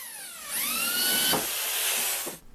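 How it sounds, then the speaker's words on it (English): A cone step drill bit bores through a workpiece during a garage box fan build, a steady high-pitched whine rising in pitch as it bites, loud and close for about two seconds before cutting off, with no talking. "I don't know why I tried to drill this with a cone drill."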